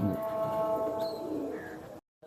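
Salar Teddy pigeon squabs coo in a loft, a low continuous murmur with soft rising calls over a busy background hum, close and steady before cutting off abruptly near the end.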